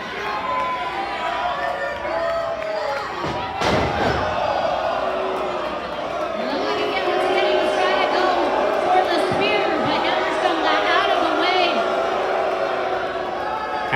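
A professional wrestling arena crowd rumbles and cheers throughout a match, a broad, continuous roar with a sharp slam-like impact early on and the noise swelling louder midway, under energetic commentary.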